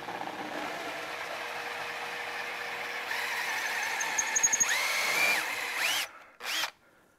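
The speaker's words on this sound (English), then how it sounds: "We're just gonna countersink that hole." A power drill fitted with a countersink bit bevels out a hole during wiring work on a 2006 Mastercraft Maristar boat, whining steadily and rising in pitch as it bites in, then stopping with a brief final burst, close and loud with no talking.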